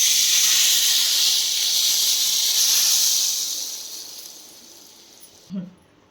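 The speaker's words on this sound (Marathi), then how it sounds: "गॅस बंद केल्यानंतर हा तडका आपण याच्यावर टाकून देणार आहे." A hot tadka tempering poured over raw tamarind chutney gives a loud, steady sizzling hiss that slowly fades, followed by a soft knock near the end.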